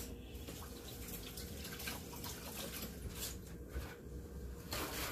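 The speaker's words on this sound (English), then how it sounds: "And rinse my hands." Hands rinsed under a running kitchen tap, a continuous splashing rush of water with small shifts as the hands move through the stream, close and steady.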